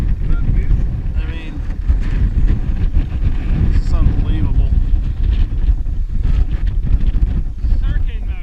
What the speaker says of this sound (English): It is so windy again.